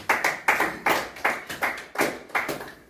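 A church congregation claps together in a steady, even rhythm, roughly two claps per second, loud and close with no voices over it.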